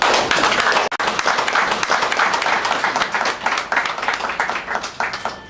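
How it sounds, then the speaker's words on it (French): Guests at a civil wedding ceremony break into loud, dense applause that carries on steadily after a brief dip near the start, with faint voices mixed in. "On applaudit très fort."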